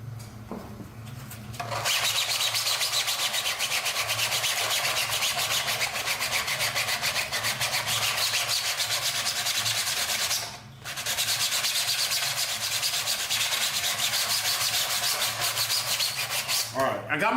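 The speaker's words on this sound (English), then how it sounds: "I got my rough scuff. That's gonna allow these two things to stick together." Steady, loud abrasive scuffing on 3D-printed PLA parts being roughened before gluing, a continuous rasping rub that dips briefly once midway and then resumes to the end.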